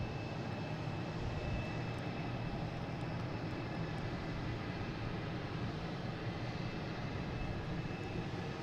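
A JetBlue Airbus A321 taking off from Boston Logan for Barcelona gives a distant, even jet roar that holds steady with a faint high whine.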